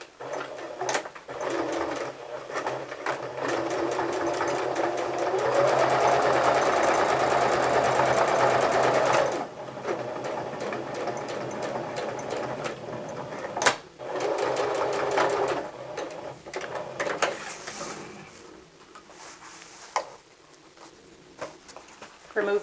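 Sewing machine stitching a clutch purse, including short back-stitches at the start and finish: bursts of rapid mechanical whirring separated by pauses, with someone talking between runs.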